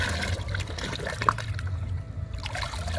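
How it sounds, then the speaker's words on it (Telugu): Water with liquid plant fertilizer mixed in, for watering garden plants in hot summer weather, trickling and sloshing steadily at close range for about three seconds, with one brief splash partway through and no talking. "ఇప్పుడు ఈ లిక్విడ్ని కలుపుకుందాము. బాగా వాటర్ని లిక్విడ్ని బాగా కలుపుకోవాలి."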